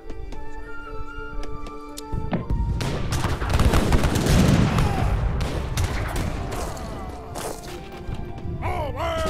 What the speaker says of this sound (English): These cannons are fucking destroying me.